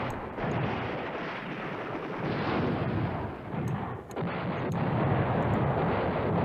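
Artillery fire in the wargame Command Ops 2, set around Nijmegen, heard as a steady, dense rumble of distant guns that swells and dips slightly, with no voices.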